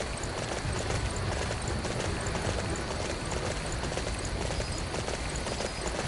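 Steady rhythmic hoofbeats of a galloping horse in the video game Dynasty Warriors 9, continuous and fairly loud over a dense noisy background, no speech.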